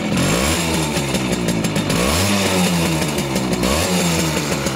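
Simson moped two-stroke engine with a misadjusted ignition running nearby, a loud buzzing drone whose pitch wavers and rises and falls unevenly with throttle changes, heard alone without talk.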